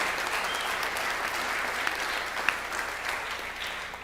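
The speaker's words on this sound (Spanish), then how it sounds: "Así que vamos a dar un aplauso" Audience applause at a church talk, steady dense clapping from a crowd heard at moderate distance, continuing evenly throughout with no speech over it.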